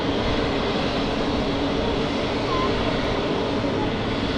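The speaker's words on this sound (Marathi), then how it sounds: "इंडिगो एअरलाईन्सचे ही फ्लाईट आता उड्डाणाला येते आहे" An IndiGo passenger jet moving out for takeoff at Mumbai airport produces a loud, steady broadband engine roar that fills the whole stretch without pause.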